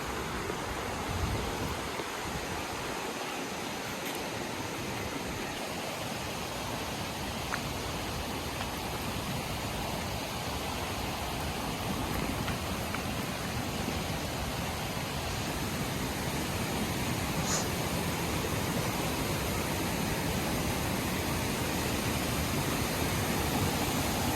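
A roughly 330-foot waterfall in Sri Lanka pours in a dense, unbroken roar of rushing water, steady and enveloping for the whole stretch, with no voices.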